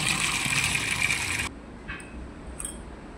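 Water pours in a steady broadband gush for about a second and a half, then cuts off, collected for a Tulsi puja at home; a few faint clinks and drips follow.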